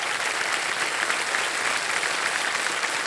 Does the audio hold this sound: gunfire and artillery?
no